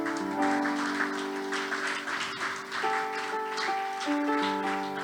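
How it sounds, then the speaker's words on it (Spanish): A church congregation applauds in a steady, moderate wash of clapping while sustained organ or keyboard chords play underneath, fairly distant and even throughout. "denle ese aplauso fuerte a Él"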